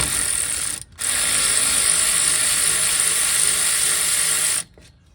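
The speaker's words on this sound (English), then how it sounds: "So now we'll take these 14 mil bolts out the rest of the way." A ratchet spins out 14 mm brake caliper bolts on a 2020 Ford Explorer Limited, a brief click, then one fast continuous whirring rattle lasting several seconds, close and loud, before it stops.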